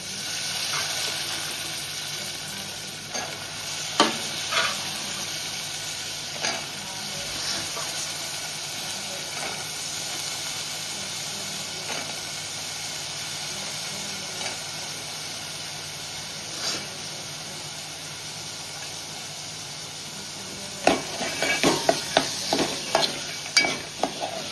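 Chickpeas frying in masala as they are stirred in a pan, a constant close sizzle with occasional scrapes and a flurry of spoon knocks near the end.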